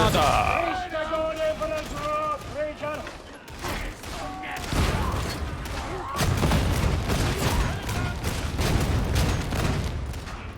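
Bolter gunfire in the video game Warhammer 40,000: Darktide comes as heavy booming shots and bursts amid game effects and music, loud and dense, with a voice speaking over parts of it.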